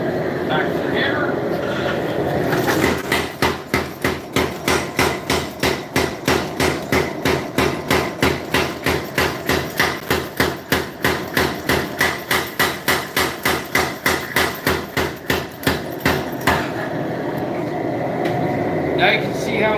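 A hammer strikes hot steel in steady rapid blows while forging the guard of a Bowie knife, dozens of ringing metallic hits in a regular rhythm, with quieter workshop noise before and after.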